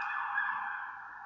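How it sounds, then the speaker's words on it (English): An ambulance siren outside a home, heard as a steady high wailing tone at moderate distance that fades slightly toward the end, with no voices over it. "That was the ambulance."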